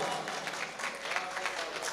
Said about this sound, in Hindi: जोरदार तालियों से इस्तकबाल कर डॉक्टर जाहिद